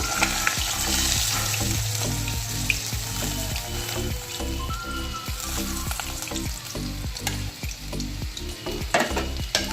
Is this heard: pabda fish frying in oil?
yes